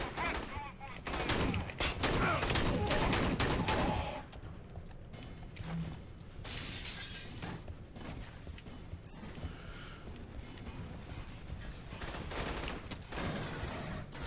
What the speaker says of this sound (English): Sounds like there's more turrets in there.